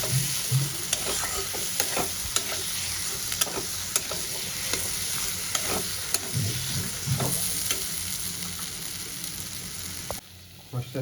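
Fried potatoes stirred and sautéed in a spice masala for an egg and potato curry, with a steady sizzle under repeated scraping, clacking spatula strokes close by, then a brief drop near the end.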